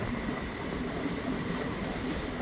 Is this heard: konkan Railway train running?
yes